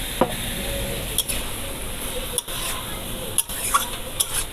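Tomatoes and vegetables cook in a pan with a splash of water, giving a soft continuous simmering sizzle, while a spoon scrapes and stirs with a few sharp clinks against the metal.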